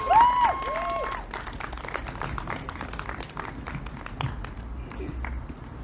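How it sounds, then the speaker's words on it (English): An audience at a park history event applauds steadily, a mass of dense clapping that carries on across the whole stretch. A brief tonal chime sounds at the very start. "Let's give a round of applause to Bones Rodriguez."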